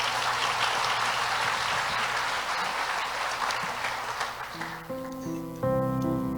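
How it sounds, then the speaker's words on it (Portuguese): Congregation at a church conference applauding, a steady dense wash of clapping that fades out over several seconds as sustained keyboard chords rise in the background. "Você pode aplaudir a Jesus?"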